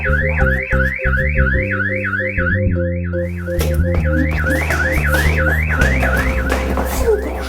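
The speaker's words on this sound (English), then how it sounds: "Why'd you have to set off the alarm?" A loud electronic door alarm wails in a rapid repeating up-down siren pattern, with clattering and bumping noises around it.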